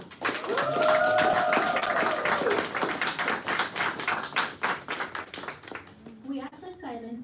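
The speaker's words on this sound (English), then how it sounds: "Please give a round of applause." Graduation ceremony audience applauding in a large hall, dense sustained clapping from the crowd with a few cheers and a whistle early on, thinning out toward the end as a voice begins speaking.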